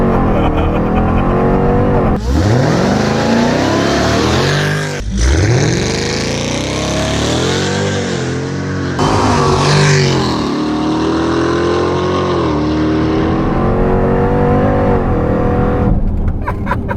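A 1,000 horsepower Jeep Grand Cherokee launches and accelerates hard uphill, its engine roaring loud and close through rising revs with sharp gear shifts and brief drops between pulls, no talking during the run.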